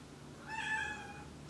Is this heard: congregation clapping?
no